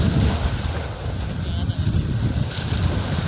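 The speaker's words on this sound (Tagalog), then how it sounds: "grabe talaga yung alon, napakalakas" Strong ocean waves surge and churn in a loud, continuous low roar close by, with heavy wind buffeting the microphone throughout.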